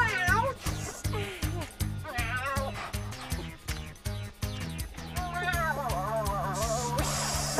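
A voice imitates a cat, as an android in Power Rangers Dino Fury gives a series of sliding, wavering meows over sustained background music and tones.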